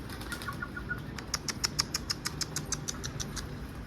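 A bird's wings flap in a quick burst of soft rhythmic beats, fairly close, over a steady low background rumble.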